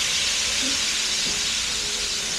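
Food fries in a kaldera cauldron with a loud, steady sizzling hiss that never lets up, and faint voices come through underneath.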